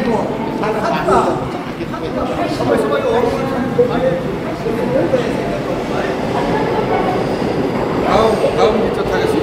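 A train rumbles through a station with rolling wheel noise and a rising screech, loud and close, while a crowd talks over it.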